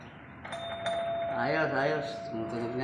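Newly installed doorbell rings once with a clear, sustained electronic chime tone, heard close by over a person talking nearby.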